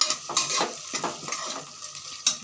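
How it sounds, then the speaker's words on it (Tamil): Onions saute in a pan with curry leaves as a spoon stirs them, a steady soft sizzle broken by rhythmic scraping and clinking strokes, close and clear with no talk. "நல்லா வணங்கட்டும் நல்ல வெங்காயம் வணங்கிடுச்சு"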